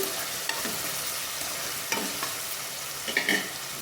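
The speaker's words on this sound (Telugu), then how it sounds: "దీనిలోకి ఇప్పుడు పచ్చిమిర్చి కూడా వేసుకొని ఫ్రై చేసుకున్నాం పచ్చిమిర్చి కూడా వేసుకున్నాక ఇలా తిప్పుకుంటూ ఫ్రై చేసుకోవాలి" Green chillies fry in peanut oil in a pan, giving a steady soft sizzle. A few scattered scrapes and stirs break through it, with no voices.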